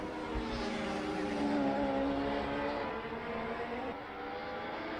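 Vintage touring cars circle the Nordschleife in a racing video game, engines droning steadily with layered whining tones and a slight rise and fall as cars pass through corners, at moderate level with no talk.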